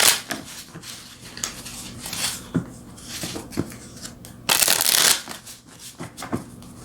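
Tarot cards being shuffled by hand, a run of crisp riffling and flicking bursts with a longer dense riffle midway, close and fairly quiet with no talk.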